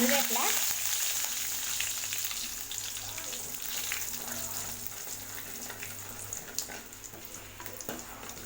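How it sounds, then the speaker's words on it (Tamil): Mustard seeds, cumin, fenugreek and urad dal spluttering in hot oil for a small onion kara kulambu, a dense crackling sizzle that starts loud and slowly settles, with a few sharp pops, close and without talk. "கடுகு, ஜீரகம், வெந்தயம், உளுந்தம்பருப்புலாம் பொரிஞ்சிட்ருக்கு"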